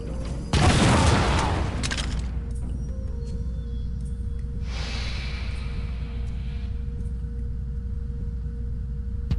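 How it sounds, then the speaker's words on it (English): A meltdown explosion in Project IGI, opening with a single heavy boom that rumbles and decays, followed by a lower hissing surge a few seconds later over a steady mechanical hum. "enjoy the meltdown explosion from a nice safe location"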